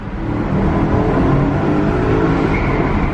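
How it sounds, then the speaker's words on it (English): A loud, close V8 BMW E92 M3 engine revving with a deep, throaty roar that holds steady for a few seconds, echoing in a tunnel. "these V8 M3s sound so much better than the new M3 and M4"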